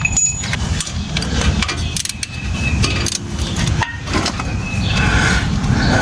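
Metal-on-metal clicking and ratcheting from a wrench working 13 mm bolts deep in the engine bay of a 2012 Jeep Wrangler during a power steering pump replacement, with close, busy tool clatter running throughout.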